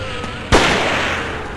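A single sharp gunshot in Forbidden Siren, loud and close, cracking out suddenly and ringing into a short decaying echo.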